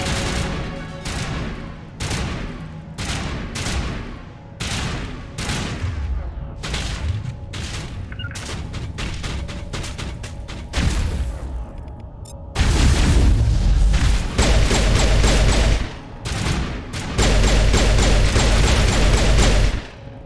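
Pistol gunfire in the video game Mass Effect, rapid repeated sharp shots and heavy booming blasts in dense bursts, loud and close, with brief talk mixed in.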